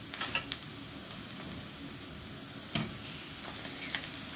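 Onions and tomato fry in hot oil in a pan, giving a steady, moderately quiet sizzle with a few brief crackles and pops throughout, and no one talking.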